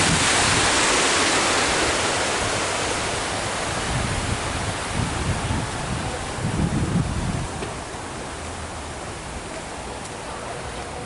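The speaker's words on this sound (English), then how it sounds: "Here's another one of those sort of waterfall." A small waterfall on The Woodlands Waterway gives a steady, close, loud rush of falling water that stays constant and fills the whole scene.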